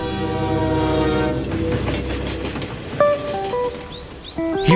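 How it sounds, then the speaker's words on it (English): An experimental low-friction train in Germany, a steady rolling rumble with rhythmic track clatter, then a sharp horn blast sounding partway through, loud and near. "engineers are testing an experimental train that all but eliminates track friction"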